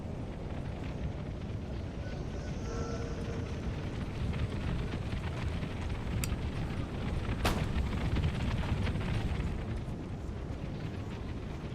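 Artillery fire in a Napoleon: Total War battle, a dense, rumbling barrage of booms and blasts that runs steadily throughout, with a sharp report standing out near the middle.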